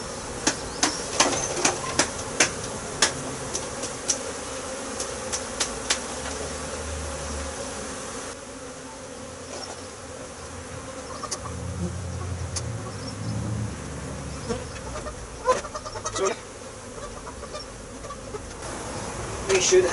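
Honeybees buzz around a hive frame as they are shaken off during a split, a dense drone broken early by a string of sharp knocks and taps, with quieter rustling later.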